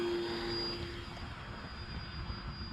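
An FMS P-40B radio-controlled model warplane drones steadily overhead, its electric motor giving a continuous whine with a steady pitched tone over a broad rushing hiss and low rumble, fairly distant.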